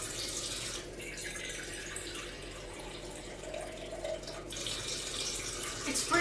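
Water runs and splashes steadily from a tap for a Jell-O cake, a continuous hissing flow that fills the clip at moderate loudness and swells slightly toward the end.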